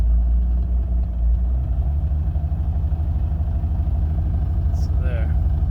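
A car engine tuned with a FuelTech FT450 idles close and loud in a steady low rumble, with the idle settling. People talk over it.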